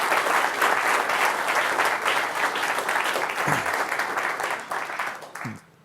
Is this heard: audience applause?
yes